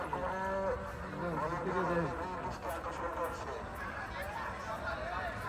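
A cow moos in a long, drawn-out low call over a constant murmur of crowd noise and distant voices.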